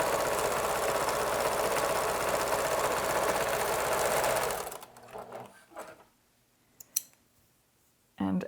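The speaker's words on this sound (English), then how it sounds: "we're going to stitch this curved edge from the nose down to the chin with a 1/4 inch seam allowance" A sewing machine runs fast and steadily, stitching the curved nose-to-chin seam of a fabric face mask with a quarter-inch allowance, then stops; a few clicks and brief talk follow in the quieter stretch.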